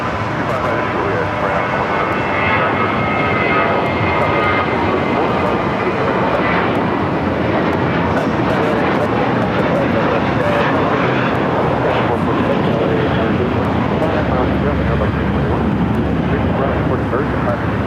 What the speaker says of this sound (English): as we do have that Spirit A321. Next takeoff here on the south side